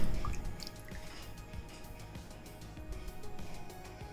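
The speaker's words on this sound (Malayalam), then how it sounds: "ഇത് നമുക്കൊരു ബൗളിലേക്ക് ഒഴിച്ചു കൊടുക്കാം" Gelatin mixture for a no-bake mango cheesecake is poured into a bowl, making soft, close dripping and splashing sounds at low volume with no voices.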